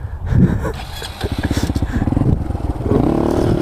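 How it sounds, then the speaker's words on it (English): Honda Grom motorcycle ridden off-road on dirt, a close small engine sputtering and revving in pulsing bursts with clattering and scraping over rough ground. "the grom could definitely off-road. Well, we made it over."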